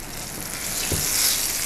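Chicken pieces pan-fry for teriyaki, a bright steady sizzle of hot oil crackling close by, with a brief soft stir or shift of the meat midway and no voices.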